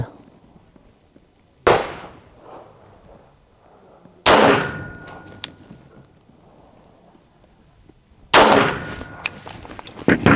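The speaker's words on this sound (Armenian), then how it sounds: "Մենք փամփուշտ կրակել ենք" Three loud, separate pistol shots from a Grand Power LP9M chambered in 9x18, fired close by at spaced intervals, each a sharp crack followed by a ringing decay, with quiet background noise between them.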